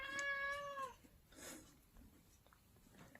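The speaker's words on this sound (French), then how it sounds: "Quoi le chat?" A single cat meows once, clear and fairly loud at the start, then the sound drops to quiet room ambience for the remaining seconds.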